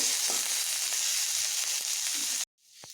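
Pointed gourd peel fries in a pan with a loud, even sizzle and a few soft stirring knocks, then the sound cuts abruptly to near silence, with no speech.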